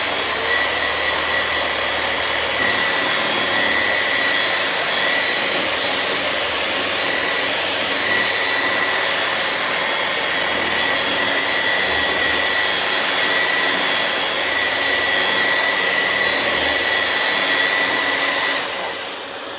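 A Festool RAS rotary sander runs continuously while sanding, a loud, steady whirring roar with a high whine that holds for the whole stretch and drops slightly at the very end.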